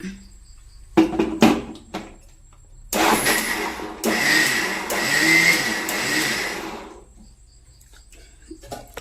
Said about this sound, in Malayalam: പാലിനത് നല്ല ചൂടുണ്ട് മിക്സിയിൽ ഇട്ട് കൊണ്ടൊന്ന് അങ്ങോട്ട് അടിച്ചെടുക്കാം